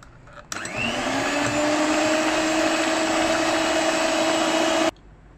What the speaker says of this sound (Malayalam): ഇതിനി നമുക്ക് വീണ്ടും ഒരു അല്പസമയം കൂടി നന്നായിട്ടൊന്ന് ബീറ്റ് ചെയ്തെടുക്കണം.